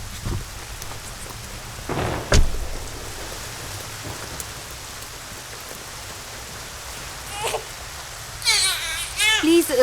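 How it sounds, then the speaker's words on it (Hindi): Heavy rain pours as a steady hiss throughout, with a sharp thunder-like crack near the start and brief voices and a child's cry toward the end. "बहुत तेज बारिश हो रही है।"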